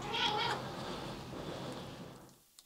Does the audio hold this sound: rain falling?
no